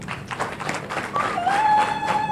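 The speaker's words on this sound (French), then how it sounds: "que je vous prie d'applaudir" Applause from a crowd at a national political remobilisation rally, steady clapping throughout, loud and fairly close, with a whistle-like tone rising over it midway.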